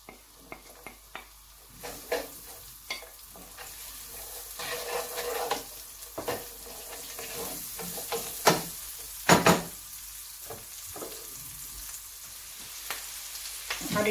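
Onion fries in groundnut oil, a soft sizzle under irregular stirring scrapes and a few sharper clatters, close but fairly quiet, with no talking.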